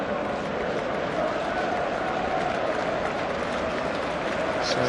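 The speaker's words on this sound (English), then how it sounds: "warm applause for David Silva" Stadium crowd at a Manchester City versus Sunderland football match applauding footballer David Silva, a dense, sustained wash of clapping and crowd noise, loud and even throughout.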